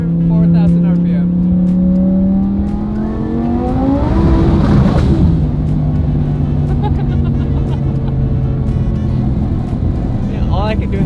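Twin-turbo race car engine pulling hard in third gear around 4,000 RPM, a loud close rising roar with a gear-like pitch drop midway, with voices talking over it.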